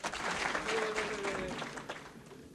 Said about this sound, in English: Okay, you can applaud for me taking the microphone from Osama.